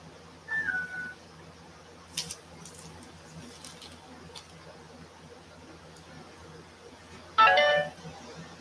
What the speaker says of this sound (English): My phone probably finally turned on